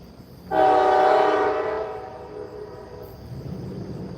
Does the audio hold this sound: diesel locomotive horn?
yes